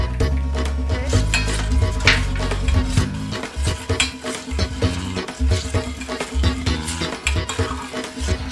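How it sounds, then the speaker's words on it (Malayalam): Coconut milk goes into a pot of tender coconut payasam and is stirred, with a low rumbling pour at first, then rhythmic spoon scrapes and light clinks against the pot, close by. "ഇനി ഇപ്പം നമ്മൾ നമ്മുടെ തേങ്ങാപ്പാല് ഇതിലോട്ട് ഒഴിച്ചു കൊടുക്കാം."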